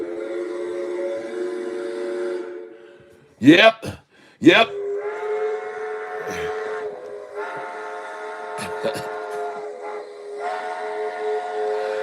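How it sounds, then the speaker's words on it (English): A train whistle blows in long sustained harmonic blasts, loud and close, interrupted by short sharp bursts, with a voice briefly speaking between tones. "because you can definitely hear the sound of the train right now."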